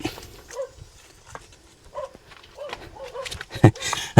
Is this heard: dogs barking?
yes